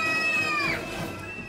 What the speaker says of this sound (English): was that the cat?